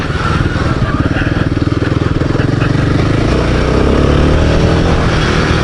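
Royal Enfield Himalayan 450 motorcycle engine pulling steadily under power, a loud continuous throbbing drone that holds close for several seconds without a break.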